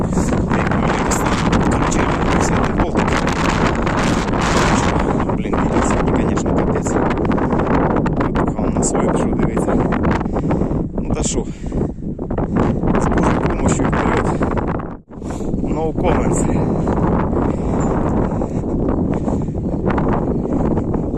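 Steady, heavy wind buffeting a microphone throughout, a dense low roar with constant rumbling gusts and one brief drop in the middle.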